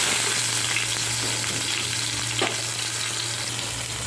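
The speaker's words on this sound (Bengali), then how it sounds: "টমেটোটা আমার ভাজা ভাজা হয়ে যাচ্ছে।" A whole cut tomato fries in a pan of cabbage with prawns, giving a steady, close sizzle and crackle that runs the whole time, with one small stir or clatter midway and no talk.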